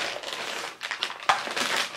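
Perfume packaging for a Tom Ford Tobacco Vanille fragrance is unwrapped, giving irregular crinkling and crushing rustles with a sharper snap partway through, close and moderately loud, with no talking.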